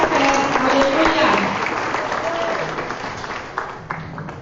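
Applause fills a church as the congregation welcomes the pastor, dense steady clapping at first that gradually thins and fades, with a few scattered voices underneath.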